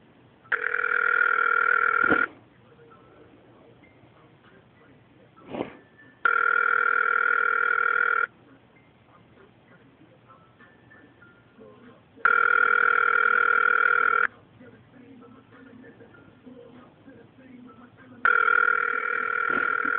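A smart watch plays an outgoing call's ringing tone in four evenly spaced, loud electronic bursts of about two seconds each, separated by long quiet gaps with faint background sound.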